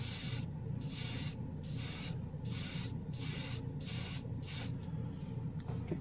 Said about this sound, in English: We're going to spray some black.